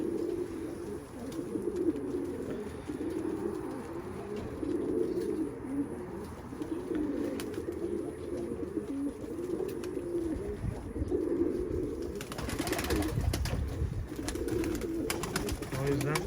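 Soft, repeated cooing of pigeons fills the clip, several birds calling steadily at close range, with occasional rustling and faint background murmur.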